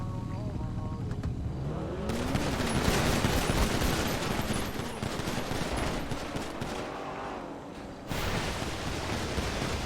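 Sustained gunfire in a GTA roleplay game, with dense bursts and rattling volleys mixed with car engine noise, loud and continuous for most of the stretch with a brief dip near the end.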